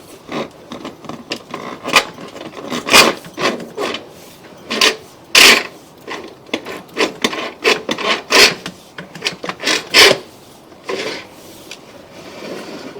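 Sewer inspection camera being pushed through a 2-inch drain line, giving irregular scraping and rasping bursts with sharp knocks as the cable rubs and bumps along the pipe, moderately close.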